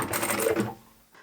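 A sewing machine back stitches fabric for a scissor keeper pouch: a close, steady mechanical whir of rapid stitching for about half a second that then stops, leaving near silence.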